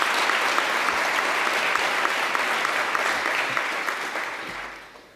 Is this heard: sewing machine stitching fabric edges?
no